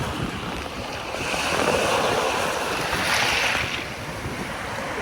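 Strong storm-driven waves washing onto the debris-strewn shore of Manila Bay at Dolomite Beach, a broad rushing surf that swells and recedes over steady wind noise, with no voices.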